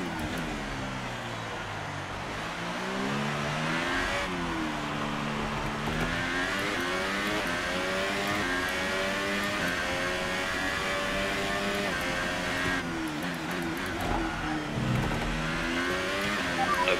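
An F1 car engine in the F1 2018 racing game screams through rising revs and abrupt gear shifts, with repeated upshifts and a few drops as the car brakes, loud and continuous throughout.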